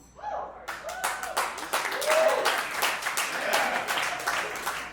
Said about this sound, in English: I appreciate the clapping